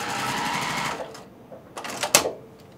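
A sewing machine stitches quilt squares for a lemonade layer cake quilt, running in a steady close whir for about a second before stopping, followed by a few soft clicks and handling noises.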